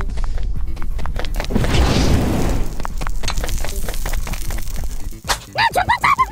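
A cartoon bomb character in an animated object-show contest ignites and explodes: a loud crackling, booming blast with sizzling debris, then scattered pops and short character voices near the end.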